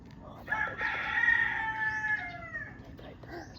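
A rooster crows once at mid distance, a long drawn-out call that rises and then trails off, over light outdoor background noise.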